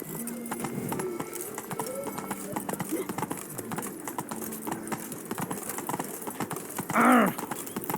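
Horse trotting in the video game The Witcher 3, with steady hoofbeats under game music and a short, bright whinny near the end, moderately loud and close.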